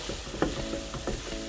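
Zucchini, ham and tomatoes with a pinch of salt are stirred together in a pan, giving soft scraping and faint sizzling over a steady low background for a brief moment.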